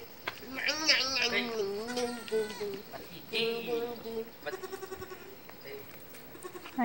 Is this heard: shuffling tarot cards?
no